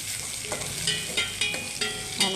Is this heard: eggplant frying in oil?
yes